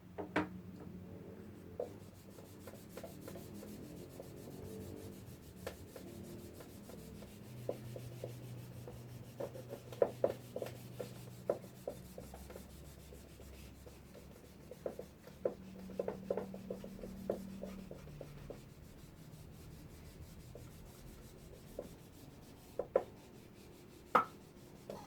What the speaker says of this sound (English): let me erase this again